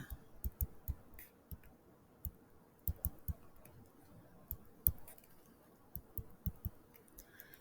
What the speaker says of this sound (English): Again, typing that into my calculator.